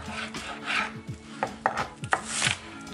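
A knife chops yellow onions into small pieces on a cutting surface: close, irregular cuts and scrapes with a few sharper knocks, and no voices.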